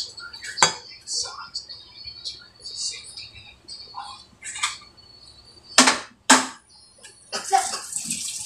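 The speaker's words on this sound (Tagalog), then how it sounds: "Haluin lang natin na maigi hanggang sa ma-mix na ang flour." Brownie batter with flour being stirred in a bowl, with scattered scraping and utensil clinks, a few sharp knocks against the bowl, close but fairly quiet.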